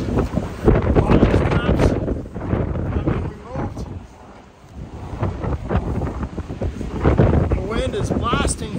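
Strong wind blasting with torrential rain in Troutdale, Oregon, around a truck unloading new 53-foot flatbed trailers, a loud, continuous buffeting roar that dips briefly midway, with someone talking over it.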